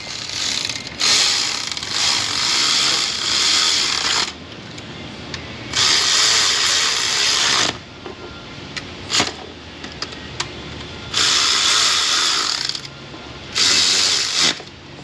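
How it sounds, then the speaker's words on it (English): Repeated bursts of rapid ratchet clicking as bolts are tightened on an LB7 Duramax diesel engine, several seconds-long runs separated by short pauses and isolated clicks, close and loud with no voices. "Let's tighten these units down."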